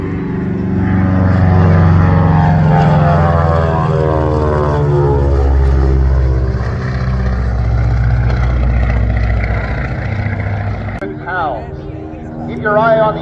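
A propeller aircraft makes a pass at an air show, its engine drone swelling and shifting pitch as it sweeps by, loud and sustained, with a voice speaking over it.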